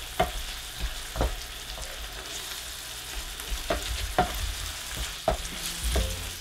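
Onions frying in a pan with a soft steady sizzle, broken by a series of sharp scraping stirs from a utensil at irregular intervals, close and fairly quiet.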